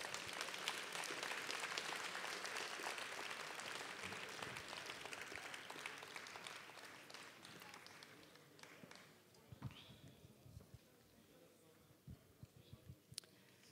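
Concert audience applauding in a dense, sustained wash of clapping that gradually thins out into scattered individual claps and thumps toward the end.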